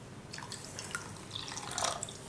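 A cup of water is poured into a mixture of tomato ketchup or chilli garlic sauce for chutney, a soft, close trickling and splashing that rises slightly toward the end, with no talking.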